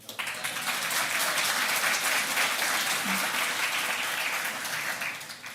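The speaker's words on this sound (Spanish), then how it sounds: "Aplausos para él, por favor." Sustained audience applause at a tribute conference honoring a jurist, many hands clapping in a full, even roar that starts abruptly and holds strong before easing slightly at the end.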